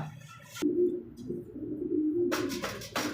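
Lakka pigeons coo in soft, throaty repeated phrases, close by, with a brief burst of rustling or flapping noise near the start and again toward the end.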